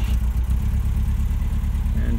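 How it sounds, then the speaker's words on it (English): A 1970 Volvo 1800E cranks over on a cold start and catches into a steady, loud, low idle, with some brief talk near the start. "We'll do a cold start."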